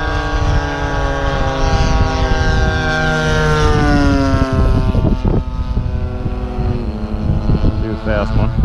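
Radio-controlled F8F Bearcat and Spitfire model airplanes fly overhead, their propeller engines droning loudly and continuously with shifting pitch as they pass, while people talk nearby.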